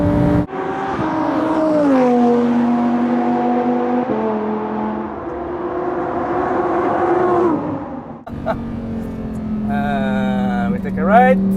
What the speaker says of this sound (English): And the sound of the engine is fantastic.